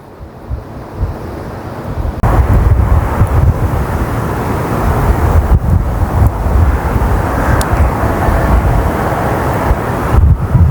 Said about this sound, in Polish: Muszę trzymać mocno telefon, bo jest straszny wiatr.